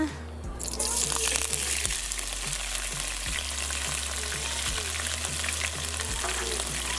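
Aromatics sizzle loudly in a pot of oil with darkened cumin and fenugreek seeds for a fireside Trinidadian curry duck, a steady broadband fry with faint periodic low thumps beneath, no voices.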